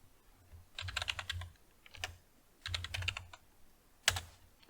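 Close keystrokes on a computer keyboard as a command is typed, coming in three quick bursts of clicks with a final sharp tap, no talking.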